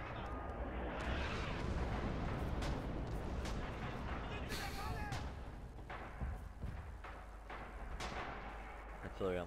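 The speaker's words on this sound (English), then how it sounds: "Artillery on the church." Heavy artillery fire in Red Orchestra 2, a dense rumbling barrage of booms and thuds rolling on continuously, with voices speaking over the din.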